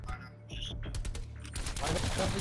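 Shotgun blasts in the Dark Matter shooter game, a rapid burst of sharp reports and clattering shots under excited talking from a player.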